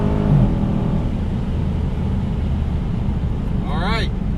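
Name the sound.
Dodge muscle car accelerating during a 60-130 mph pull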